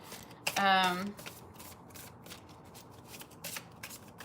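Cards are shuffled in one quick riffle lasting about half a second, followed by soft handling noises and a few faint ticks.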